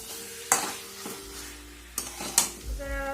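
A spatula stirs food frying in a pan: a handful of distinct scraping strokes over a soft, steady sizzle, close and fairly loud, with no one talking.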